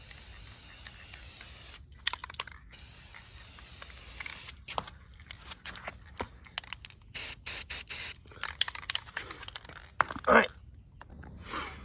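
An aerosol spray paint can lays camouflage onto a stick, producing a steady long hiss and then a series of short, sharp spray bursts separated by pauses, close and clear.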